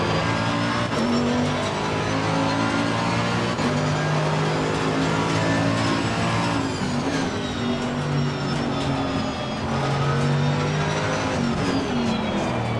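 Race car engine in Assetto Corsa Competizione, driven on an aggressive setup, droning loud and steady throughout with rising and falling revs as gears shift, plus some tire squeal.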